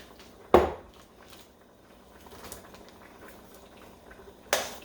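A spoon clanks twice against a pot while homemade potato soup is stirred, with sharp metallic knocks near the start and end and faint scraping and bubbling in between.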